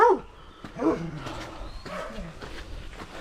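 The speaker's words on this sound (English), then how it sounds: "There's a dog up there." A dog barks somewhere up a paved walking path on the Camino Portugués, a few distinct barks at moderate distance, with faint outdoor background and running water around.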